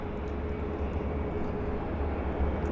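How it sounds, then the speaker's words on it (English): A WestJet airliner taxiing at Vancouver YVR airport, a continuous broad low engine rumble and roar at moderate distance, steady and unbroken throughout. "So there's our WestJet taxiing out."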